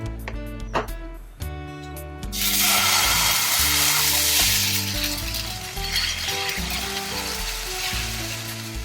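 Oil heating in a hot pan sizzles loudly, a steady broadband hiss that starts about two seconds in and continues to the end over background music.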